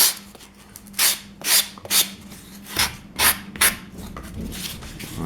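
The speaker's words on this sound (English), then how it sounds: "I'll take the sanding block, hit it a couple of times just to smooth everything up." A sanding block rubs across a foam coal load for a model train hopper in about six short, rasping strokes, close up with no talking.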